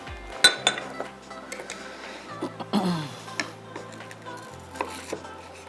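A knife cuts through fried chicken tonkatsu on a board, giving several sharp, separate taps and clinks at an uneven pace, close and clear, with a low hum underneath.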